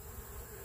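Honeybees from a swarm cluster around a caged queen on the ground, giving a steady close buzzing hum throughout, with no voices.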